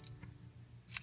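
Fabric scissors handled on a craft room table, giving a couple of quick metallic snips and clicks, one at the start and a brighter one near the end, close and clear with no talking.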